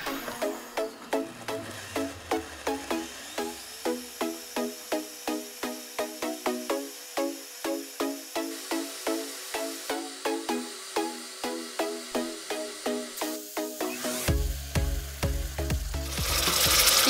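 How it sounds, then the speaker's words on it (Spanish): A blender liquefies salsa ingredients, with consommé, garlic, onion and oregano, whirring with a steady rhythmic churning before the motor rises to a loud, dense roar near the end. "Y ahora sí, vamos a licuar."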